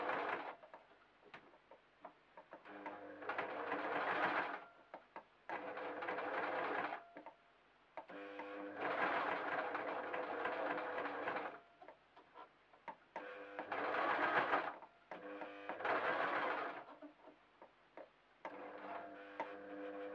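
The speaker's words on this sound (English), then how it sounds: "I'm going to start to sew" A sewing machine runs in repeated bursts of rapid mechanical stitching, starting and stopping with short pauses, while stitching the fabric of a sheep door stop; close and clear, with no talking.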